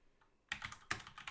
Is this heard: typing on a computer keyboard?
yes